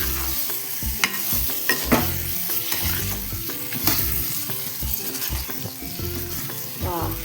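Eggplant pieces sizzle and fry in a pan while a spoon stirs them, scraping and clattering against the metal in uneven bursts. A steady hiss of hot oil runs underneath the stirring.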